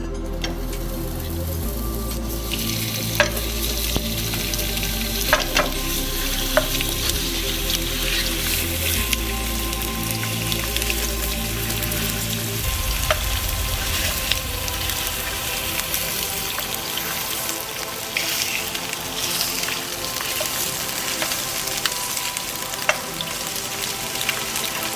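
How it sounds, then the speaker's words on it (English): Sausage cooks in a pan with extra virgin olive oil, giving a steady close sizzle with scattered pops and drips throughout, no talking. "put our sausage into our pan with some extra virgin olive oil"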